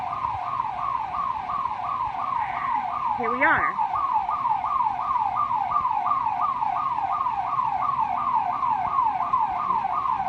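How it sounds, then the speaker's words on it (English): An alarm siren wails continuously in a steady rising-and-falling cycle, loud and close, during street unrest in Bronzeville, with someone talking briefly over it. "You still hear the alarm going off"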